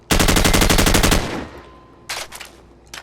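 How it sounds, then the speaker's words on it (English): An assault rifle in Call of Duty 4 fires full auto from the hip, a loud, rapid unbroken burst of gunfire for about a second, then a short pause and a second burst that begins and is cut off. "this is shooting from the hip, trigger all the way down."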